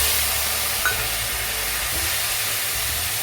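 Ground onion paste hitting hot oil with browned garlic in a home kitchen pan: a continuous, even hiss of frying, moderately loud and close, with a faint clink near the start.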